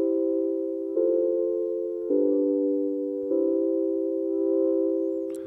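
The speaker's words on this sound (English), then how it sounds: "A classical cadence sounds something like this." A classical cadence played on the SoundPrism iPad app, with four sustained harmonic chords changing in steady succession, each held about a second, clean and moderately loud with no voices.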